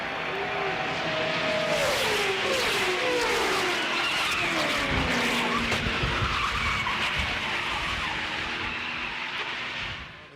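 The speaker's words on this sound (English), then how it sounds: "The car behind him, Mike Wallace, crashed." Fourth-generation NASCAR stock cars crash and skid at a superspeedway. Loud, continuous tire squeal and roaring engines fill about ten seconds without a break, with sliding pitch sweeps as the cars scrub across the track.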